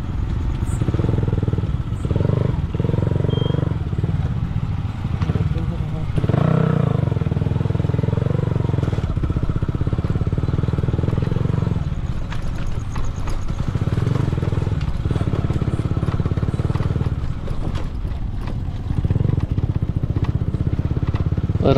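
A motorcycle ridden along a road at night, its engine a steady low drone with wind noise that holds loud and close throughout, without clear speech over it.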